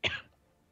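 A single short, sharp cough, close and dry, cut off quickly and followed by quiet.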